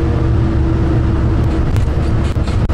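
Steady low rumble of a bus driving, heard from inside the cabin on a school graduation trip to Stryn, loud and continuous with a few faint clicks and knocks near the end.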